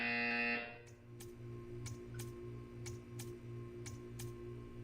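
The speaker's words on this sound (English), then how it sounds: "You will hear a buzzer. When you hear the buzzer, stare at the art." A loud electronic buzzer from the video game Portal 2 sounds for about half a second, then drops to a quieter hum with regular ticking pulses.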